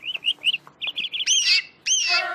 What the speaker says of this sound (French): j'y suis juste allée pour enregistrer le chant de son canari